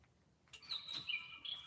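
Small bird chirping outdoors, several quick high tweets and a short trill over faint background, fairly close but quiet.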